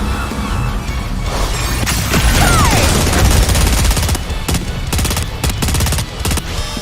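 An Aegis cannon in the game NIKKE fires in a loud, close barrage of rapid blasts with crashing impacts, ending in a stuttering series of sharp bursts.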